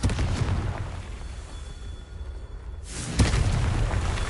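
A Confringo fire spell explodes in Hogwarts Legacy on PS5, a broadband blast bursting in around the three-second mark over a steady rumbling game backdrop, loud and close with a sustained roar trailing after.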